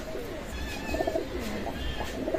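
Oman-bloodline teddy pigeons coo in soft, repeated rounded calls, fairly close, against a low background murmur, with no speech.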